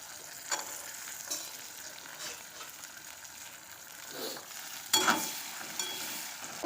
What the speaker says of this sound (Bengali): এখানটায় হচ্ছে সবজিগুলোকে ভালো করে ভেজে নিচ্ছি দেখো এখানটায় আছে ক্যাপসিকাম